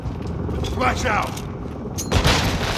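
Flashbang grenade detonating during a multiplayer match of Call of Duty Modern Warfare 2 on the Dome map, a dull boom and burst near the end over steady rumbling battle noise and brief radio-style voice chatter.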